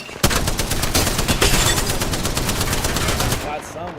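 Rapid automatic gunfire from enemies in a shooter video game rattles in a dense, fast burst of loud repeated shots, stopping abruptly after about three seconds.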